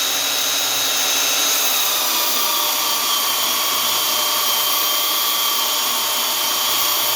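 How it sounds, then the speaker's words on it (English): Belt sander grinding steadily across the flat top of a tree cookie sample prepared for dendrochronology, a loud continuous high whine and rushing hiss that holds unbroken throughout with no talk. "My goal with the belt sander is to get all the lines out and have a really nice flat top, uniform sanding all throughout."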